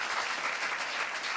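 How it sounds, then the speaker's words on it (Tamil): An audience claps steadily at a Tamil debate show, a dense, even burst of applause with no voices. "கைத்தட்டல்களால் நாங்கள் வாழ்த்துக்களை சொல்கிறோம்"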